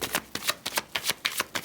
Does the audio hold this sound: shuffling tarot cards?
yes